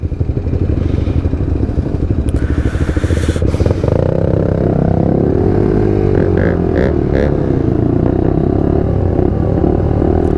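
A motorcycle rides past in traffic, its engine note loud and close, rising and swelling as it goes by, heard over the steady drone of a nearby 125cc bike's own engine.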